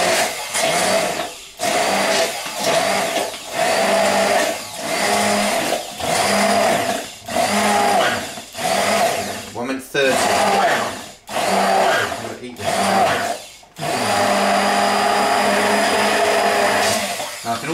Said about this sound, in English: Just a hand blender, you can get 10 quid.